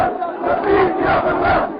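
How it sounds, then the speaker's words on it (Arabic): Street protesters in a Libyan town chant slogans against Colonel Gaddafi and in support of the rebels, a dense, continuous roar of massed voices, loud and close throughout. "خرج متظاهرون في الشوارع مطالبين برحيل العقيد معمر القذافي ورددوا هتافات مؤيدة للثوار في بنغازي"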